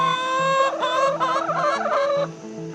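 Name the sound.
chickens clucking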